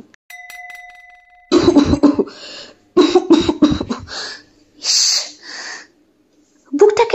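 Harsh coughing fits, several bursts in quick succession, close and loud, separated by short pauses and a few throaty sounds.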